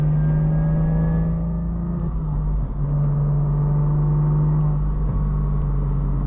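A single-turbo BMW F80 M3 engine idling with a loud steady rumble and drone, with a faint whine drifting in pitch, close by.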